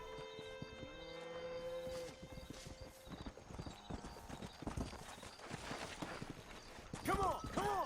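A horse galloping in the video game Red Dead Redemption, quick rhythmic hoofbeats at a steady clip, a whinny and game music in the background, and a voice speaking faintly over it.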